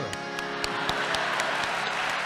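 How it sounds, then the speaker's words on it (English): An audience clapping at a bhajan singing gathering, a light patter of scattered hand claps, fairly faint and steady throughout. "You clapped for Siddharth."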